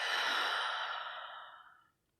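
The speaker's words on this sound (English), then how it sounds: "Let's take a breath." One deep, close breath let out slowly as a long, airy exhale that fades away over about two seconds.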